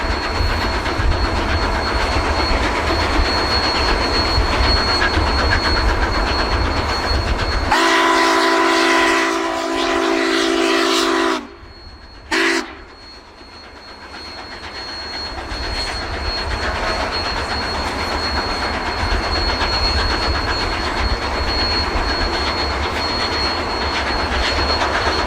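Union Pacific 844, a big steam locomotive, rolls past in a loud continuous rumble with a steady roar. A long whistle blast cuts in partway through, then drops off abruptly before the heavy running sound returns.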